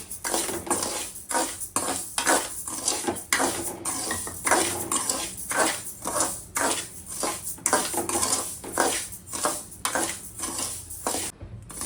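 Rice roasting in a kadai over a medium flame, a steady, close run of scraping and clattering strokes from a spatula against the metal pan with a light sizzle underneath, repeating in a quick even rhythm throughout.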